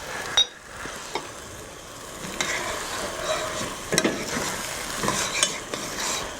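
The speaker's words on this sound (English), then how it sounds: "The balsamic vinegar again is going to go into the onions, sweeten them up" Sliced onions frying in a pan as balsamic vinegar goes in, giving a steady close sizzle with stirring scrapes and a few louder spatters, no talking.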